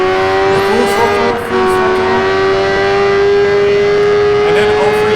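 A race car engine at full throttle in Project Gotham Racing 4 holds a loud, steady high-revving whine that climbs slightly in pitch, with a brief dip early on, while a person talks over it.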